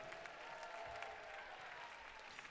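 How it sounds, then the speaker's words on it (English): An audience at a Christian showcase event gives a round of applause, a dense, even patter of many hands clapping, faint and steady for a couple of seconds. "Can we give a big round of applause for Showcase Council?"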